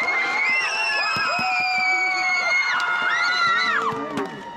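Fans at a Nexen versus Lotte baseball event roar and whoop for player number two, with rising and falling shouts and cheers that stay loud and dense before easing off near the end.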